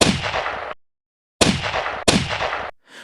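Three sharp, loud gunshots ring out in quick succession, each one a sudden blast followed by a brief fading tail, with silence between them.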